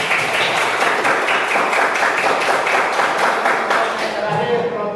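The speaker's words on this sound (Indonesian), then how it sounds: "Tepuk tangan untuk kelompok matahari" Classroom applause for a student presentation group during a school lesson, a dense steady patter of many hands clapping close by for the full stretch, with a teacher's voice over it.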